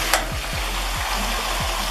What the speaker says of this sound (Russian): Так, будем мешать картошку.